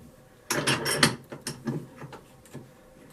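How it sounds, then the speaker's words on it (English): Bench vise clamping a bicycle rat-trap pedal cage gives a close, quick run of ratcheting metal clicks and knocks, followed by a few sparser clanks. "just clamp this cage in the vise like I had it before"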